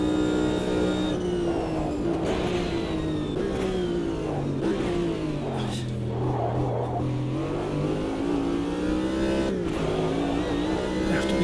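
Race car engine in a Spa circuit racing game, revving hard and continuously with rising and falling pitch through gear changes, loud and close throughout.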